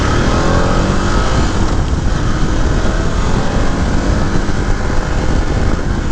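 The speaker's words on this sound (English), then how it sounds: "Super smooth engine." KTM 1090 Adventure R motorcycle from 2018 being ridden, its engine giving a steady, loud, continuous drone mixed with wind rush, with no obvious revving changes across the stretch.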